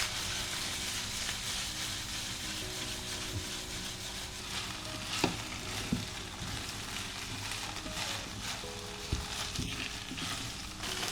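Paneer sautéing over high heat in a pan while preparing a royal white biryani base, giving a steady, moderate frying sizzle throughout with occasional light clinks and scrapes of a utensil.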